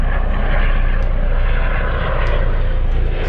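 A propeller airplane drones overhead at a steady, loud level, its broadband engine roar running unbroken from start to finish on an otherwise noisy outdoor day.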